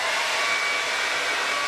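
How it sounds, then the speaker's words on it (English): A blow dryer blows steadily on hair while a quick weave bob is being styled, giving an even, continuous airy whoosh with a faint whine, close and alone without speech. "So I'm just taking my blow dryer."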